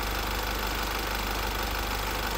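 A 2018 Honda WR-V VX i-DTEC diesel engine with 87,000 km, in good condition, idles with a steady, even low rumble and continuous mechanical clatter, heard close up.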